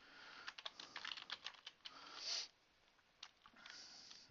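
Quick bursts of typing on a computer keyboard, close and fairly quiet, with a short sniff partway through and no talk.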